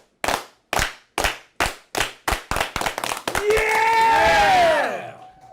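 A crowd at a community rally claps in unison, sharp synchronized claps speeding up from slow to fast, then breaking into loud cheering and shouting voices.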